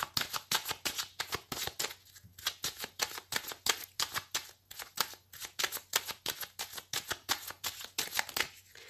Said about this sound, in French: je vais faire une coupe avec le tarot que j'utilise pour les consultations